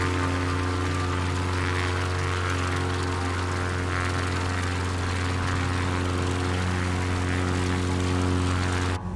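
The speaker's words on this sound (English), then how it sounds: "When the Kodiak passes beside your plane, it sounds like a fly." A Kodiak single-engine propeller plane in Microsoft Flight Simulator 2020 drones steadily nearby, a constant buzzing engine hum with a strong low tone, loud and unbroken for the whole stretch.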